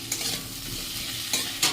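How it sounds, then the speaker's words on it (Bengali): Potato and pointed gourd fry in a pan, with a short burst of sizzling broken by a few quick spatula scrapes and stirs, close and fairly loud. "আলু পটলটা নিয়ে নিচ্ছি, একটু ভাজা ভাজা করে নিই"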